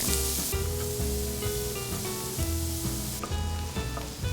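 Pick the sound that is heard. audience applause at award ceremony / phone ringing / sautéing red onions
sautéing red onions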